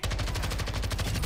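A battle rifle in a shooter video game fires in a fast, unbroken automatic burst of loud, close shots, evenly spaced and dominating throughout.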